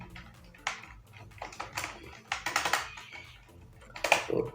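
Close, steady typing on a computer keyboard while entering text in Microsoft Excel, with rapid uneven key clicks and a few louder taps toward the end over a low background hum.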